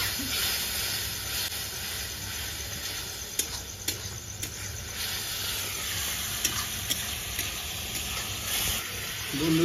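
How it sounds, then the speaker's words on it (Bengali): Water hits a hot pan in a Bengali vegetarian potato, pointed gourd and paneer dish, and a steady loud sizzle and hiss follows, with a few stirring clicks scattered through it. "হালকা জল দেবো।"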